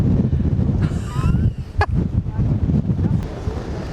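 Strong wind near a lighthouse buffets the microphone in a steady low roar, with gusts rising and falling throughout.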